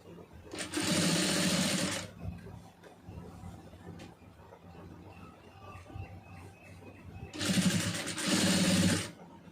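A domestic sewing machine stitches folded piping onto fabric in two loud, steady bursts of motor whir, one near the start and one near the end, with quieter talk in the pause between them.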